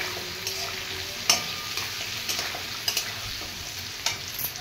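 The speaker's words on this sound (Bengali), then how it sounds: "দেখুন, পেঁপে আলুগুলো অলমোস্ট ভাজা হয়ে গেছে।" Papaya and potato pieces frying in a pan for a vegetarian curry, giving a steady soft sizzle with occasional sharper stirring clicks and scrapes, close and moderately quiet with no talk.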